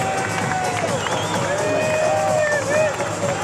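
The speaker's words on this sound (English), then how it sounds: "The crowd is excited." An excited crowd roars and cheers steadily at a professional volleyball match between Indy Ignite and Columbus Fury, a dense wall of noise with shouting and whistles, rising slightly toward the end.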